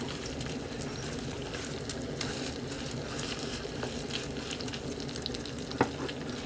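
Minced pork omelette frying in a pan, a dense continuous sizzle with light scraping of a utensil and one brief louder clack near the end, close up with no voices.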